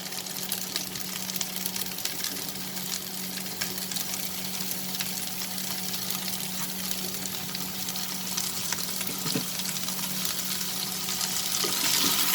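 Long beans and chicken sauté in a hot pan, giving a steady, even sizzle and frying hiss that continues throughout, with faint stirring.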